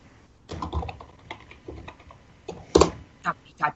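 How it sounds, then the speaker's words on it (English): Someone hammers hard on a computer keyboard in irregular bursts of loud clacks, with one especially heavy strike near the end, close up and not overlapped by speech. "Why are you punching your keyboard?"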